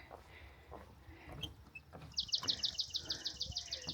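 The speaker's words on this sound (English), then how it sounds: "Lots of birds flying around and talking." A bird gives a quick series of high, evenly spaced chirps partway through, over a quiet outdoor background at Bay City State Park, with a few faint calls earlier.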